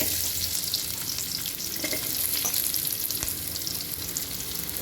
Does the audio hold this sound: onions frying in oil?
yes